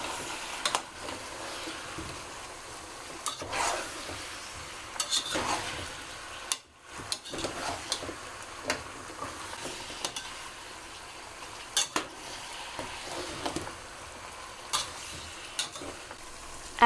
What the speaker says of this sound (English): Add in the onions and the peeled and chopped potatoes and carrots and stir this together.